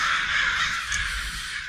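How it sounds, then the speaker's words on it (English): Crows cawing near a market and bridge, harsh repeated calls sounding close and loud over a steady outdoor hiss. "And you can hear crows as well."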